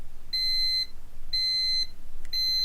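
A digital thermometer alarm beeps in three evenly spaced, half-second electronic tones, high-pitched and clear against a quiet background.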